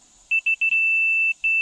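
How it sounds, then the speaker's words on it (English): A land survey receiver gives three short electronic beeps, then a long sustained tone, then another beep, clear and close in an otherwise quiet setting. "we don't have the beep setting on. Now we do."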